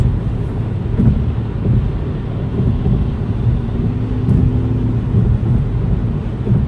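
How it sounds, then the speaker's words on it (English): Road noise inside a moving Kia Forte GT with a manual gearbox on rough Michigan roads: a loud, steady low rumble of tires and wind filling the cabin, with occasional thumps from bumps and no talking. "there is road noise in this car"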